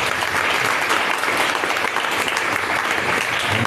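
Steady applause from a church congregation acclaiming Jesus Christ during a prophetic service, dense and continuous clapping filling the whole stretch with no voices standing out.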